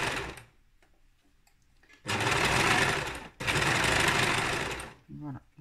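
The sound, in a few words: sewing machine stitching fabric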